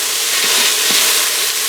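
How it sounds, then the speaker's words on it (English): Loud close sizzling and hissing come from chili with meat and tomato paste as it is stirred in an Instant Pot, with a few soft scraping stirs beneath the steady fry. "we're going to stir this up"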